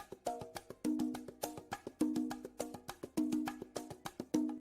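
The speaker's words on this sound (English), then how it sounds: "one of the main rhythmic patterns is that of the conga tumbao, which sounds like this" Conga tumbao pattern from salsa music, played alone as a crisp repeating cycle of muted slaps and ringing open tones, with louder open-tone accents recurring about once per second at a steady tempo.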